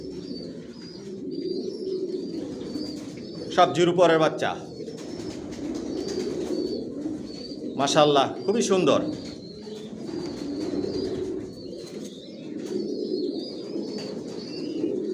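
Domestic racing pigeons of a long-distance breed coo softly in a loft, with a low steady murmur throughout and a few wing flutters, while someone talks over it at intervals.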